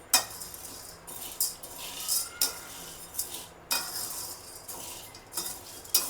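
A spatula scrapes and stirs dry rice grains around a hot pan in repeated strokes while roasting them reddish, quiet and close, with a faint sizzle.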